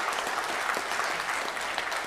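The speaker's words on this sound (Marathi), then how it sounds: "मला असं वाटतं भगीरथ कुलकर्णी सरांसाठी आपण जोरात टाळ्या वाजवायला पाहिजे" An audience applauds loudly and steadily at a fiftieth birthday celebration interview event, dense continuous clapping with no voices over it.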